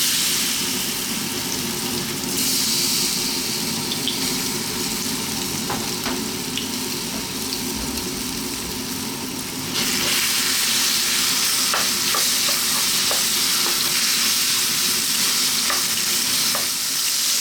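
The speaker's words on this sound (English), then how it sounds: "I'm going to grab our pork, I'm going to drop it in, and we're going to fry it for about 4 to 5 minutes" Pork sizzles loudly in a pan over maximum heat and is stirred almost constantly, giving a dense continuous frying hiss with scattered scraping clicks and no talking.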